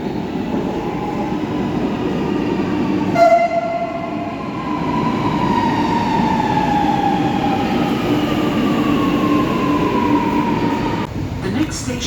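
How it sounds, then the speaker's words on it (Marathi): A Lucknow metro train rolls into a station with a loud, steady rumble and a rising whine of motors and wheels, faint squeals mixed in, while someone talks over it. "आमची मेट्रो स्टेशनमध्ये एंट्री मारते"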